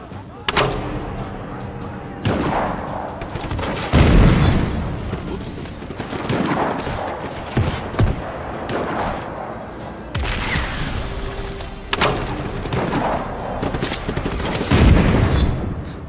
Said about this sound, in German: Jetzt gucken, wie wir da hinkommen, wenn wir hier ständig immer so dermaßen angeschossen werden